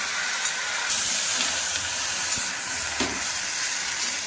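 Jute leaves stirred into okra and eggplant cooking in a pan give a loud, continuous close-up sizzle and hiss with a few faint clinks underneath.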